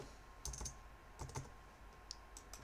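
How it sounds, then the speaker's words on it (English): Quiet, close typing on a computer keyboard, a few scattered key clicks in short clusters with pauses between them. "We're going to type in"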